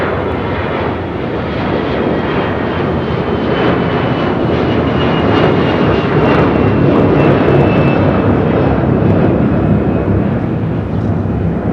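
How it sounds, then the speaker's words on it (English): An Air Canada Airbus A321 jet takes off from a runway at LAX, a loud broad roar of engines swelling slightly and holding steady, heard from a distance outdoors. "our first takeoff here, which is an Air Canada A321,"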